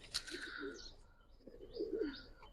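Giribaz pigeons on a rooftop give soft, nearby coos in two short phrases, with a few faint chirps mixed in.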